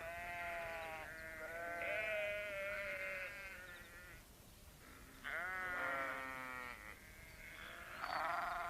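Several sheep bleat loudly and repeatedly, wavering calls overlapping one another in quick succession, close by with no talking.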